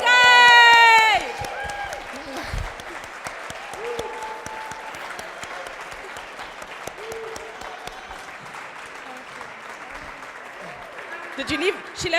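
A crowd at a memoir book launch claps steadily after a loud, sung or shouted voice at the start, with scattered voices and cheers mixed into the applause, which swells again near the end.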